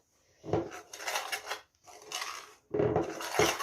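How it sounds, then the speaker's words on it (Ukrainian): Rough scraping and rubbing of a spoon working through thick chebureki dough made with boiling water, in three bursts with short pauses, close and fairly loud. "буду поступово сипати воду і швиденько перемішувати"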